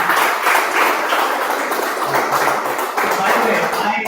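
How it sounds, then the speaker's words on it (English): Applause closes a live startup session with a venture founder, broad and steady clapping from a room of people lasting the full few seconds without pause. "Guys, another round of applause."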